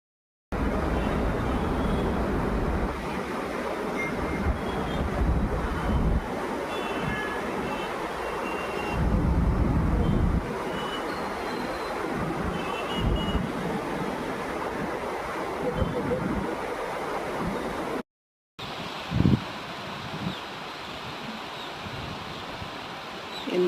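Floodwater rushing fast at a bridge nearly level with the flow, a loud continuous roar of churning water mixed with wind buffeting on the microphone, with a short break near the end.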